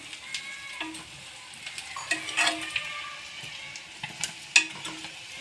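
Mutton dhoba fries in a pan with a continuous close sizzle, punctuated by scattered stirring scrapes and soft clinks of utensil against metal, with no voices.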